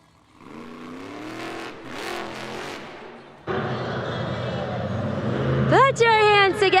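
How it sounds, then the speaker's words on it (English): Monster truck engine revving hard during a Sky Wheelie attempt in the two-wheel skills challenge at a Monster Jam freestyle event at Belmont Park, NY, with an announcer talking over the roar, which swells into sharp rising revs near the end. "Kylie Kent, Team Sparkle Smash, goes for the Sky Wheelie for attempt number 1"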